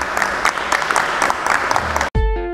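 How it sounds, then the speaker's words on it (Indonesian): An audience applauding three people at a Ramadan lecture event in Malang, with steady clapping for about two seconds before it cuts off abruptly into a low tonal musical sting. "kita jeda sebentar dan tepuk tangan untuk mereka bertiga."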